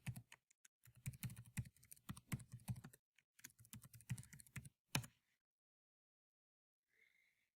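Rapid typing on a computer keyboard to log in, with close, crisp key clicks in quick uneven runs, a short pause, another burst and a final firm tap before silence.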